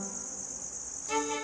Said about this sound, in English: this is a cricket farm